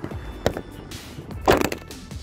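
The hood of a 1996 Pontiac Trans Am with a Ram Air hood is lowered and shut, giving a short handling knock followed by a heavier thunk, close and alone.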